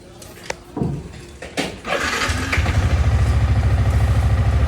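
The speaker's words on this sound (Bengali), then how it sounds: "তো যাই হোক আমার বাইকের সাউন্ড একটু দেখি" A Yamaha R15 V3 motorcycle at a service shop: a few clanks and bumps, then the engine catches and runs in a close, steady rhythmic idle that grows louder toward the end.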